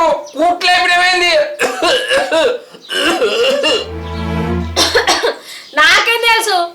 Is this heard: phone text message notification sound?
no